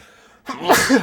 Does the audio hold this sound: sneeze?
yes